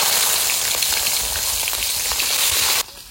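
Bay leaf, cumin seeds and green chilli sizzle and crackle in hot oil, a steady dense frying hiss with scattered pops that drops off sharply near the end.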